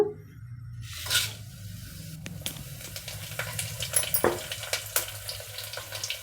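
Mustard seeds, cumin and dried red chillies sizzling in hot oil in a pressure cooker, a crackling, popping sizzle that grows busier over several seconds with scattered sharp pops, heard close up without talking.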